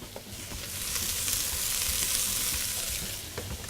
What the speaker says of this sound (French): je mets mes poivrons donc dans un feu assez vif. Il faut bien les faire sauter.